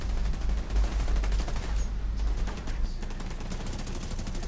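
Rapid automatic gunfire from The Division 2 rattles on in dense, continuous bursts, loud and close throughout.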